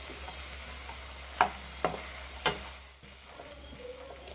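A spoon scrapes and stirs ivy gourd with cumin and tamarind in a pan, giving three distinct clinks over a soft, continuous low sizzle, heard close and fairly quiet.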